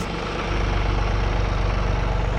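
A John Deere 3046R cab tractor with a front snowplow blade idles close by, its steady, loud diesel throb pulsing evenly with no talk.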